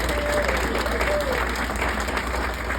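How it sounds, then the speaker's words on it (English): Steady round of audience applause at a Kiwanis fundraising comedy night for a comedian, a dense, even crowd clapping that runs the full few seconds at close, loud level. "Another big round of applause for Yee."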